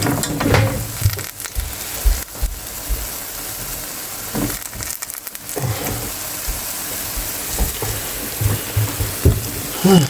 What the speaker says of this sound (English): Fry it some more